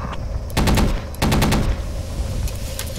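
A BMP vehicle fires its gun in Project Reality. Two short, loud bursts of rapid shots come close together, followed by fainter firing in the distance.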